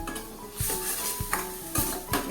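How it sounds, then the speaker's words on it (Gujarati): Fried bitter gourd being stirred into a curry gravy in a pan: regular scraping strokes of a spoon against the metal, about one every half second, over a faint sizzle. "કારેલા એડ કર્યા પછી આપણે સારી રીતે મિક્સ કરી લઈએ"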